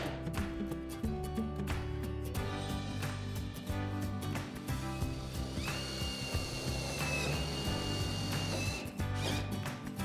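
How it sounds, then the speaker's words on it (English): A power drill drives screws through a garage door curtain into the drum, whirring in short bursts, its motor rising in pitch, over a steady backdrop of rhythmic music. "Use appropriate screws to drill through the curtain and into the drum"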